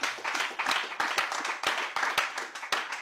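Audience applause and clapping in a hall at a French-language debate on Islam and the Bible, a steady burst of many hands beating in uneven rhythm for about three seconds, close and fairly loud with no talk over it.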